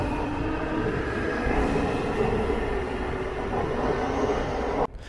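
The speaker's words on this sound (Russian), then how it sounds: "сейчас еще один поезд уезжает в обратную сторону" An automatic Istanbul metro train pulls away from a station, a steady loud rumble of wheels and motors filling the platform before ending abruptly.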